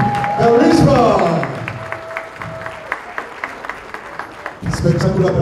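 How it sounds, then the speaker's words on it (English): Audience applause after a live stage performance: a burst of clapping and crowd noise with a voice at the start, thinning into scattered, rhythmic individual claps, then swelling again with voices near the end. "Let's put a round of applause for Ivan NAM and Lisa Dixon"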